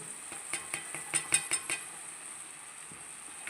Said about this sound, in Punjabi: ਹੁਣ ਆਪਾਂ ਪਿਆਜ਼ ਆ ਜਿਹੜੇ ਇਹਦੇ ਵਿੱਚ ਇਹ ਪਾਵਾਂਗੇ